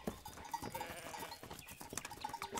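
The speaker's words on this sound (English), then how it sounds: "That flock of sheep is bound to throw up the scent." Sheep in a flock bleating in a cartoon farm setting, with repeated short cries and faint bell-like clanks over a busy, layered background of noise and music.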